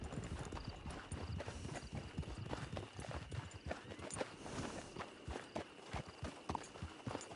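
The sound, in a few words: horse hooves clip-clopping, Red Dead Online video game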